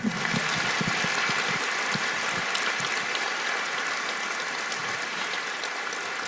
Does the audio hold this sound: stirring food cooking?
no